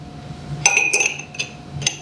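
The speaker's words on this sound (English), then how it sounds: "Quick stir." A cocktail of simple syrup with sage and a bay leaf is stirred briefly in a glass at a live outdoor food and beverage demo, giving a few bright, close clinks and taps of ice and spoon against glass.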